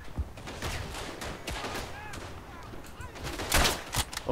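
Gunfire in the World War I video game Verdun: rapid, overlapping rifle and machine-gun shots in dense bursts, loud and continuous, with a player talking over the battle noise.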